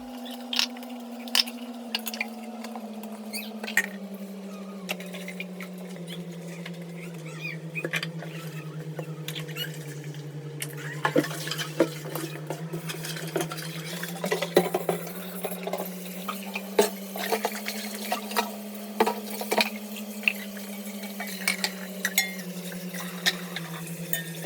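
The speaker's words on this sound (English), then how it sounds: "I want to quickly wash this plate, then I'll continue our topic, so the noise will not really interrupt us." A plate washed at a kitchen sink under running water, with a steady stream's low hum, gentle patter and splashing, and scattered clinks and squishes from handling, close and unbroken throughout.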